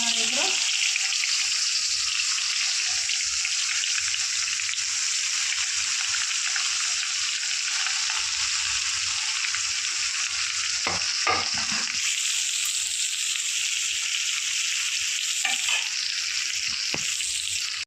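Eggplant fries in hot oil in a kadhai, a steady close crackling sizzle that lasts throughout, with brief clinks and stirring sounds and a faint voice in the background.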